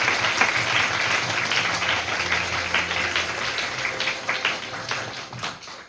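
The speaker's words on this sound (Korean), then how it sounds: "다시 한번 큰 박수 부탁드립니다" An audience at a Model UN opening ceremony applauds in a dense, sustained wash of clapping that fades toward the end.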